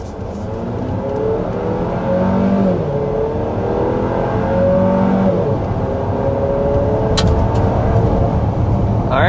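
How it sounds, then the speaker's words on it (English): A 2024 GMC Acadia Denali SUV accelerates hard up to 60 mph, its engine droning loud and steady with gear shifts audible as the pitch climbs, drops and climbs again for several seconds. "let's go ahead and start with a hard acceleration"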